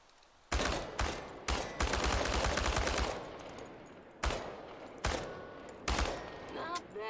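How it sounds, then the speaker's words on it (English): Automatic gunfire aimed at cans in Chernobylite, in loud repeated bursts. A long sustained volley leads into shorter separate bursts with brief pauses between, and faint pings of hit cans. "Ready? Commence firing."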